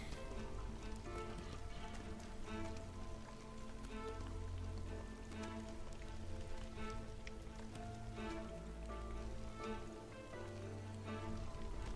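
Steady storm rain in the colony-building game Against the Storm, a continuous patter of drops on surfaces over a low ambient music bed, even and unbroken throughout.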